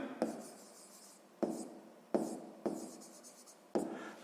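Handwriting in pen on paper for a sixth-grade math problem, quiet close-up scratching strokes punctuated by five distinct taps at irregular intervals, with no voices.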